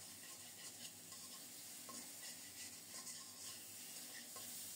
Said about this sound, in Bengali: দারুণভাবে মশলার সাথে কলাগুলো আবার কষিয়ে নিলাম।